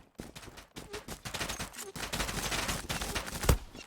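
Gunfire in the online shooter Zula, dense bursts of rapid shots and fusillades close by, mixed with game effects and a sharp louder hit near the end.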